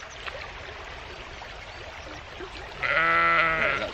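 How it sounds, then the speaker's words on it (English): A single sheep lets out one loud, wavering bleat near the end, close by over steady outdoor wind and stream noise. "Were you after that sheep?"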